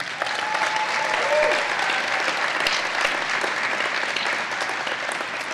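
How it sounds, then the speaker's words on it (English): A crowd at a Michigan State University athletics event applauds with sustained, even clapping that fills the room, a few voices faintly audible beneath. "Let's give a round of applause for Tom Izzo."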